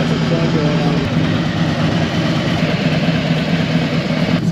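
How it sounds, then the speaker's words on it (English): A Harley-Davidson bagger with a 107 engine and new cams runs steadily, its low, dense rumble holding close and loud throughout with little rise or fall, while people talk over it. "when you wake up an engine, you don't baby it, you start ripping it even harder"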